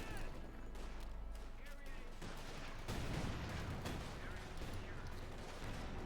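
Dense bursts of rifle and machine-gun fire crackle continuously in a Company of Heroes 2 battle, with booming impacts and a commentator talking over the steady barrage.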